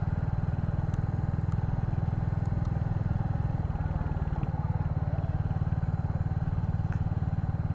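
A Royal Enfield Hunter 350 motorcycle engine runs while riding, with a steady, loud, low thumping exhaust pulse throughout and faint clicks above it.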